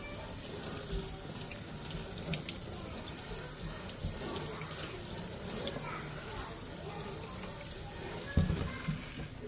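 Raspberries are rinsed under running tap water in a sink. A steady, close splashing stream flows throughout, with a brief louder clunk near the end.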